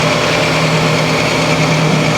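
A valve grinding machine spins an engine valve clamped in its chuck during a GM 5.3 engine overhaul, a loud, steady motor whine and hum that holds constant throughout with no pauses or talk.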